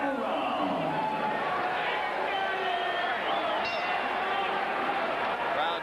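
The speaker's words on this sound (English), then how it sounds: "Crowd cheers for the 12th round." A packed arena crowd at the Riddick Bowe vs Larry Donald heavyweight boxing bout roars steadily at the start of the 12th round, a dense wash of cheering and overlapping voices that holds at the same loud level throughout.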